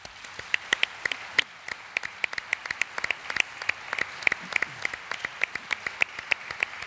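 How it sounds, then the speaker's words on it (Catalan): Sparse applause from an audience at the Grinyó Ballester 2023 award ceremony in Vinaròs, individual sharp claps scattered and fairly distinct rather than a dense roar, moderately quiet and continuing steadily. "que els dediquéssiu un fort aplaudiment a tots els grinyols de Ballester que tenim aquí dalt de l'escenari"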